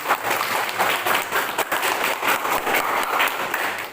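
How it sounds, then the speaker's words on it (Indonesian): Students in a classroom applaud a presenting group, a brisk, fairly close burst of many hands clapping at once, dense and continuous for several seconds without talk over it. "Kasih tepuk tangan"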